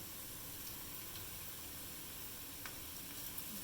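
Round red chillies, curry leaves and cumin sizzling in hot oil for a black lentil daal tempering, a continuous bright hiss with a few faint pops and crackles.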